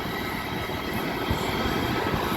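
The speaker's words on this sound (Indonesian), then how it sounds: "Garuda Indonesia Airbus A330 seri 200." A Garuda Indonesia Airbus A330-200 sits on the apron during unloading, its engines or ground power giving off a loud, steady roar and whine that holds evenly throughout with no voices.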